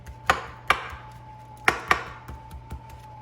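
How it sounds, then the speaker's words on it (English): A knife repeatedly stabbing raw chicken thighs, giving sharp, crisp knocks against a cutting board, four prominent strikes in two quick pairs followed by a few softer taps, close and clear over a faint hum. "you take your knife and you want to stab it several times"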